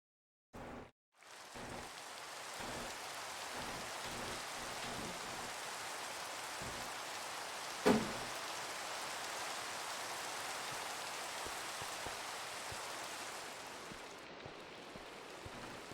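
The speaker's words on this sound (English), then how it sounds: "Oh, I love the sound of rain. It sounds so good." Steady hiss of rain in the Minecraft video game, falling evenly and continuously for about fifteen seconds with faint low thumps underneath and one brief sharp knock midway.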